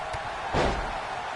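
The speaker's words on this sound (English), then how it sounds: "What a stomp." A wrestler's stomp lands in WWE 2K19, one short, heavy thud of impact heard alone and fairly loud.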